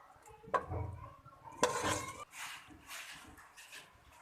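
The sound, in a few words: dishing korma out of a cooking pot into a dish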